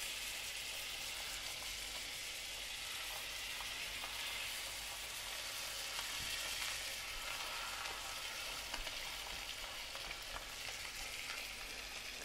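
Duck legs fry skin side down in butter in a cast iron pan, giving a steady, even sizzle and crackle that holds level throughout with no talking.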